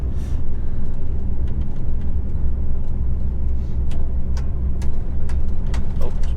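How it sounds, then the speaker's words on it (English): A slightly bent radio aerial taps irregularly against a truck's cab roof, with sharp light knocks scattered over the loud, continuous rumble of the engine. "it's me aerial tapping me roof again"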